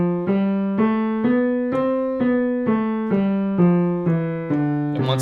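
Piano left-hand finger exercise, a slow, even sequence of about eleven single notes stepping up and back down, each struck cleanly and left ringing, close and clear.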